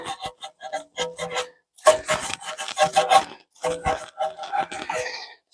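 A sponge scrubs a car's paintwork during a hand wash, making close, rhythmic squeaky rubbing strokes in short bursts with brief pauses between them.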